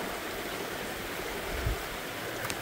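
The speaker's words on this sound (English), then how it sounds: "Could this be the greatest waterfall in Canada?" Steady rushing water from a waterfall in Canada roars evenly throughout, a dense continuous wash of noise with no voices.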